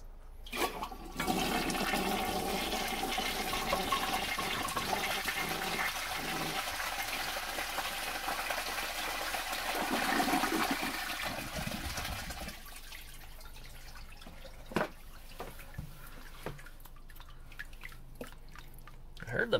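A pink 1955 Standard Cadet toilet flushes with a loud sustained rush of water, easing into refilling trickles and drips, with a voice speaking briefly.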